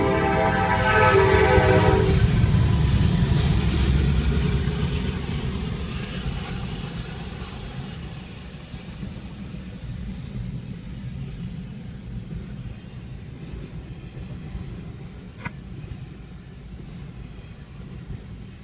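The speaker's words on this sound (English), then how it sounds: "See you at the next train. Train, hey!" A train in Western New York rumbles past close by at night, its horn blaring loudly at the start before the steady clatter of rail cars continues and slowly fades.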